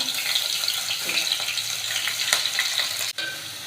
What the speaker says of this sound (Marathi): लसूण लाल झाल्यावर लगेच त्याच्यामध्ये मिरच्या टाकून घेऊया लगेचच कांदा टाकून घेऊया